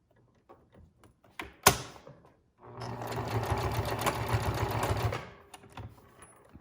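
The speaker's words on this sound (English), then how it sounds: "Sew down almost to the corner, and that's your last piece of elastic that you got to attach." A home sewing machine stitches elastic onto a fabric face mask, running in one steady burst of about two and a half seconds after a few soft clicks and a sharp knock, then stopping.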